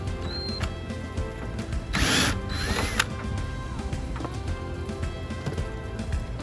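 Ratchet wrench clicking as screws come out of a Jeep rear door during a tire carrier hinge upgrade, a steady mechanical ratcheting with a louder burst of turning midway, close by with no talk.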